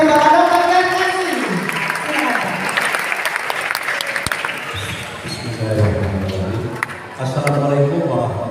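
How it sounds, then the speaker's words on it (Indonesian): Audience applause greets a jury member at a Betawi silat competition awards announcement, a full, steady clatter of clapping with a voice speaking over it through the crowd noise. "Tepuk tangan yang meriah untuk Bapak Dr. Jarkasi."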